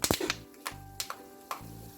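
Sharp, irregular pops and spatters of jackfruit fibre frying in oil, a handful of distinct crackles about half a second apart, close and fairly loud.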